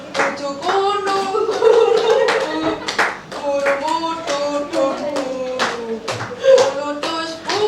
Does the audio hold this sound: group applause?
yes